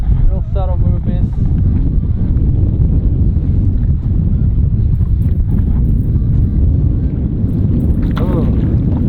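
Wind blows across a lake during a fishing trip, a steady close rumble buffeting the microphone throughout, with a voice briefly heard under it.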